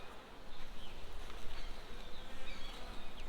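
Honey bees buzz densely around a hive frame of brood and larvae lifted out during an inspection, a close, continuous droning hum with faint rustling and no talk.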